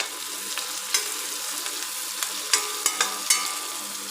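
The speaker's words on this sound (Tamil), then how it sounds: "இப்போ எண்ணெய் நல்லா காஞ்சதும் இந்த ஆனியனை போட்டு நல்லா வதக்கிக்கலாம்." Onions with a pinch of salt sauté in hot oil in a frying pan, making a steady close sizzle. A spatula taps and scrapes the pan several times, and no one speaks.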